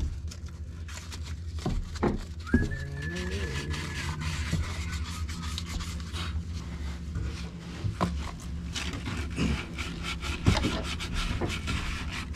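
Sandpaper rubs against a wooden floor beam during a repair, a close scratchy back-and-forth rasp in uneven strokes, with a faint squeak and some background clatter.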